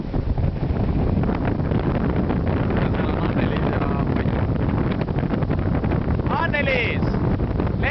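Strong wind buffets loudly and continuously against the microphone outdoors, a dense roaring rush with voices talking faintly beneath it.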